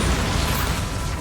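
A Bombarda explosion spell bursts in Hogwarts Legacy, a loud, dense blast of rumbling noise that fills the short moment, close and alone without speech.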